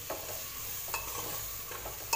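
Homemade black masala being sautéed in a pan for masale bhat: a soft, low sizzle with a few sharp spoon scrapes and taps against the metal, quiet and close.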